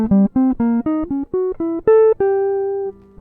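Guitar running a diminished scale cell quickly: a rapid ascending string of crisp plucked notes finishing on one held, decaying note, close and alone without any voices.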